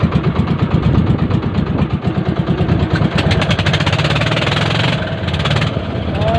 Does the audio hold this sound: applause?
no